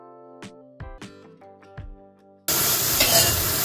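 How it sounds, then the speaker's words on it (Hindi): Capsicum being lightly sautéed and stirred in a pan for street-style Chinese bhel, opening with a few scattered scrapes and taps, then a loud, dense steady sizzle taking over for the last second, with no talk. "अब हमने ये शिमला मिर्च डाल के थोड़ा चला लिया, हल्का सा सॉटे करेंगे है ना।"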